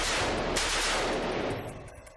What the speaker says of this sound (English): This is the Bren gun, the British light machine gun.